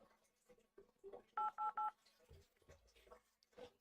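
A PayPal phone verification line picks up three crisp keypad tones in quick, evenly spaced succession as a passcode is entered, with faint muffled talk and rustling around them.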